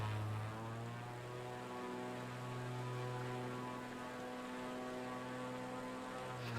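A heavy propeller plane flies in a VR flight simulator, its engine a steady droning hum with a whirring airscrew tone, constant and fairly loud throughout with no talk.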